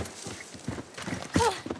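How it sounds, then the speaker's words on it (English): Horse hooves in The Last of Us Part I as a horse turns a circle in snow: a few soft, uneven clip-clop steps, close, with a brief snort or whinny-like sound near the end. "The horse turns a circle."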